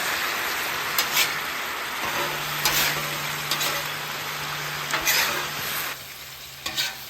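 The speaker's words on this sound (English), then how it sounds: "I'm gonna add all of this sauce just a little bit. I'm gonna save just a little bit. Let that sauce reduce." Chicken wings in sauce sizzling and reducing on a Blackstone griddle, a steady close frying hiss with intermittent spatula scrapes and stirring, the sizzle dropping a little near the end.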